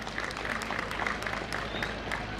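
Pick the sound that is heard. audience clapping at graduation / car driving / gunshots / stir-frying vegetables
audience clapping at graduation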